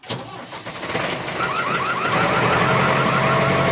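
A tractor engine runs with a steady, rising mechanical rumble, close and loud, with a brief series of chirping tones partway through.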